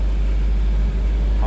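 A 1953 Packard Caribbean convertible engine turns over and settles into a close, steady, low idle rumble with a brief higher tone near the end.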